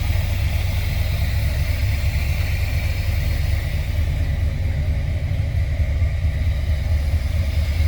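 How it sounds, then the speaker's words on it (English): A 1979 Chevrolet Corvette Coupe engine idles smoothly and steadily, a deep continuous low rumble heard up close and alone for the whole stretch. "Good sounding engine."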